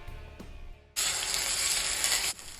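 Steak searing loudly in smoking-hot oil in a cast iron skillet over high heat, a sudden sustained hiss that bursts in close and steady, then drops away near the end.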